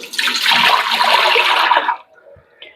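A quart of water poured in a steady, loud rushing stream for about two seconds, then stopping, leaving faint dribbles and a soft clink.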